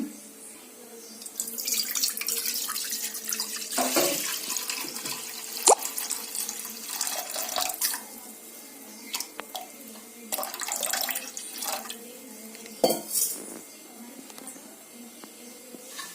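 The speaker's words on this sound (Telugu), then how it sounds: "కొన్ని వాటర్ పోద్దాం." Water is poured into a pan on a stove in uneven splashing bursts, louder in a few spots, with a person speaking in between.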